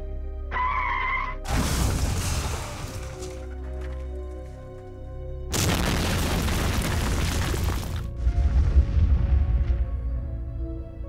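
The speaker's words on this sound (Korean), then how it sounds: "갑자기 앞쪽에서 폭발음이 들려왔다" A heavy explosion sound effect in a horror radio drama, two long loud roaring bursts with rumbling low end and crackling debris, separated by a quieter stretch, no voices over them.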